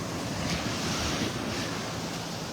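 Ocean surf washes steadily onto the beach at Delnor-Wiggins Pass State Park in North Naples, a continuous close roar of breaking waves with wind buffeting the microphone, no voices.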